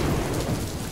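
Heavy rain pours steadily in a cartoon thunderstorm, a dense continuous hiss with low rumbling thunder underneath, loud and unbroken throughout the short stretch.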